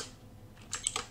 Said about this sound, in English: I'm typing set.